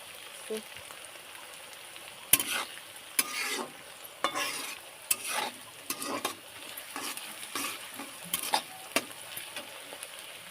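Small chopped onion roasting in a pan on a home stove, with a soft continuous sizzle punctuated by repeated scraping and flipping strokes from a spatula, fairly quiet and close.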